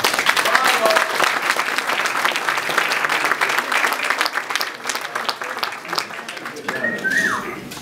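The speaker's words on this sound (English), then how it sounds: "let's give all our winners a round of applause" A crowd applauds award winners at a readers' choice awards ceremony, dense and steady clapping for the whole stretch, with a few brief whistles near the end.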